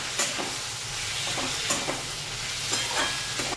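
Chopped onion and tomato frying together in a pan for a spicy chavali usal, a steady close sizzle with occasional scraping stir strokes.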